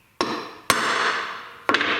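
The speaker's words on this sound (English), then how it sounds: "Then I'll enlarge it with a regular punch so the drill bit can catch it." Three sharp hammer strikes on a steel punch while marking metal in a workshop, each a crisp ringing clang with a short metallic decay, the last a quick double hit.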